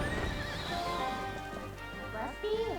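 A horse in The Legend of Zelda: Twilight Princess HD whinnies and neighs repeatedly over galloping clip-clop hooves while bombs frighten it, with a voice talking over the game sounds.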